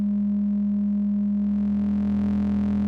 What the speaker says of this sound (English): let's go back to our sine waves